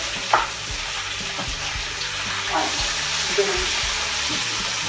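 Peppers sizzling and frying in a pan, a steady close hiss with occasional stirring clicks and scrapes; no talking.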